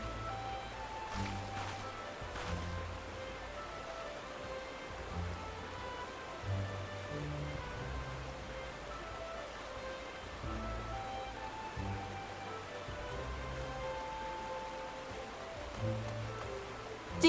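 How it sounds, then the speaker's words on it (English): Soft, steady rain patters continuously in the Final Fantasy XIV VR game world, a faint, even hiss with scattered droplet ticks and occasional low thumps throughout. "I'm looking at the raindrops, like, right here."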